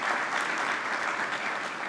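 Audience applause at a pan-African merit award ceremony in Brazzaville, a dense, steady wash of many hands clapping at once, loud and close, continuing evenly for about two seconds with no speech over it.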